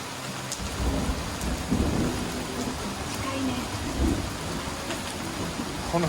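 Heavy rain pours steadily at a second house in the countryside during a thunderstorm, with deep rolls of thunder rumbling underneath. The downpour is loud and continuous, and faint voices can be heard beneath it.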